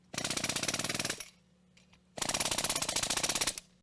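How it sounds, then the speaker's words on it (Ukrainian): A jackhammer powered by a mobile compressor breaks up old bridge piles during a bridge repair, firing in two loud, close bursts of rapid rhythmic hammering with a short pause of compressor hum between them. "Маємо відбійний молоток, маємо компресор пересувний. Здовбуємо трошки оці сваї."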